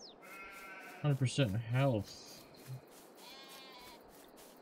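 Sheep bleating in the Farming Simulator 22 video game, a single wavering bleat in the middle, heard over a soft ambient background while a person speaks briefly.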